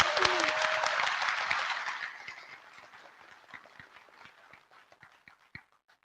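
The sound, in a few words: audience applause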